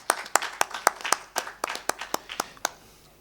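Sparse applause at a local election candidate event in Amuwo, Lagos, about a dozen distinct sharp claps in a loose, slowing rhythm, fairly close, fading toward the end.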